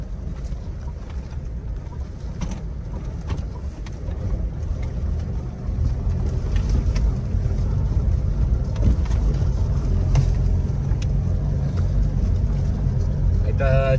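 A Lada Niva drives over rough shepherd country, its engine a steady low rumble that grows louder partway through, with wind buffeting and a voice talking over it.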